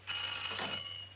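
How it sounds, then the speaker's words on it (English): Telephone bell rings in a single sustained burst of about a second, bright, metallic and fairly close, alone with no voices. "Why don't you answer the phone?"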